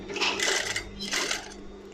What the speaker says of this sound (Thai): นักเรียนก็ค่อยๆเย็บตามเส้นไป